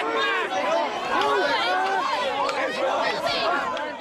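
A surging protest crowd scuffles with a police line: loud, dense shouting, yelling and overlapping voices with bursts of commotion and jostling, sustained and close throughout.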